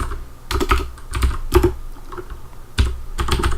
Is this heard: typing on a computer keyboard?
yes